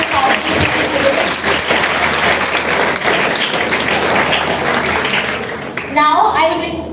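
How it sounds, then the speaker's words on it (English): An audience claps loudly in sustained applause at an interschool declamation contest, then the clapping fades and a voice briefly speaks near the end. "give a big round of applause to all the participants who participated today"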